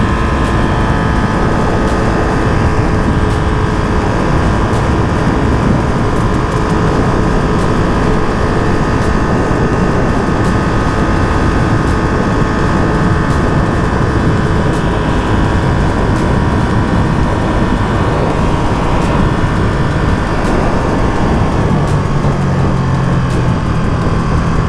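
A 2023 Ducati Panigale V2 Bayliss Edition motorcycle engine roars steadily and loudly while riding, with dense continuous wind rush blending into the engine drone throughout.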